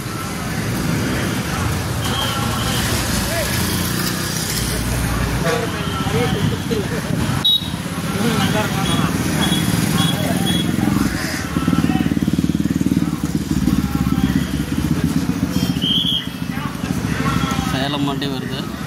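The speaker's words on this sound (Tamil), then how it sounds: "சேலம் வண்டி வருது." A bus engine rumbles low and continuously at a busy bus stand as a bus bound for Salem pulls in, with loud voices talking over the engine noise throughout.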